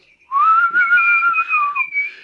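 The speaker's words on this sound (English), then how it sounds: "and he whistled" A person whistles a clear, sustained tune during a reading of a Christmas poem. The whistle is loud and close, with long gliding notes and a brief shorter phrase at the end.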